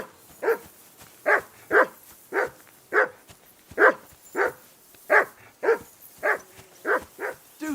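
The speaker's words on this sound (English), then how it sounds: "Do something with that mutt, Henry." In the medieval game Kingdom Come Deliverance 2, a dog barks about a dozen times in an uneven series of sharp, loud, close barks, each separated by short quiet gaps, with no talking.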